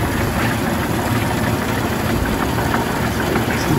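A cold 1930 Rolls-Royce Phantom II drophead coupé engine idling just after startup, a loud, steady, close rumble with no voices.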